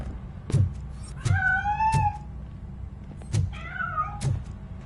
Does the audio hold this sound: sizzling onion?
no